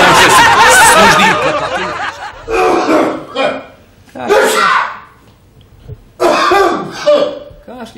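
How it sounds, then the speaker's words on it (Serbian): On a TV comedy show, a man coughs loudly and close up in several separate bursts, with throat-clearing and short rasping hacks between pauses. "Kašli."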